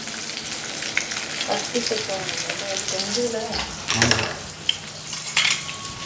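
Waval fish sizzles and spits in hot oil in a pan, a steady close crackle with scraping stirs and a few sharp metallic clinks of a spatula against the pan.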